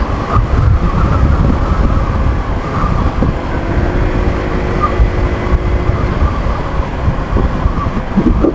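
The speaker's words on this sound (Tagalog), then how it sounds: "lakas ng hangin na" Wind roars steadily across a rider on an ADV160 scooter, a dense broadband rush mixed with the engine hum and passing road traffic, with no talk.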